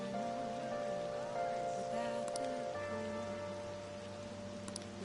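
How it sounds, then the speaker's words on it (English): Steady rain hisses softly inside the video game Persona 5 Royal, layered under sustained tonal game music with no talking. "this rain is so annoying"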